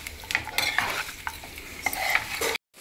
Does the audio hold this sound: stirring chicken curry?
yes